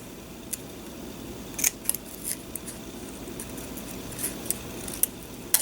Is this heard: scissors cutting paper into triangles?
yes